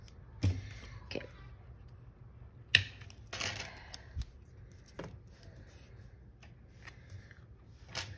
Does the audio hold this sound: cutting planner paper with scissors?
yes